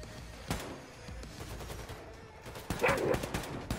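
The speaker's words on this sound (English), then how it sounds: "Motherfucking dog." A dog in Wolfenstein II: The New Colossus barks in a nuclear bunker, one sharp bark early and a louder burst near the end, amid gunfire and combat noise.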